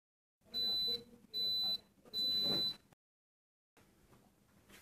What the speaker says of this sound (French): le bip émet trois signaux sonores pour avertir l'utilisateur du démarrage